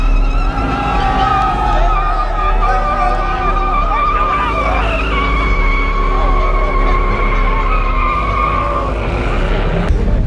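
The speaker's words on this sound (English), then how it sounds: "Like 20 feet down the road and they do another burnout." Boosted Honda street cars doing a burnout on the road, a sustained loud squeal of spinning tires with a shifting pitch and engine drone underneath, over a noisy crowd.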